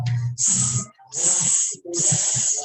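A voice imitates a snake's hiss three times, each sharp hiss led by a brief vocal sound, close and clear.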